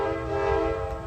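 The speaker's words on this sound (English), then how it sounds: "CSX M426 was given the go-ahead to head north" A CSX M426 freight train in eastern New England sounds its horn, a loud steady multi-tone blast held for about a second over low rumbling rail noise.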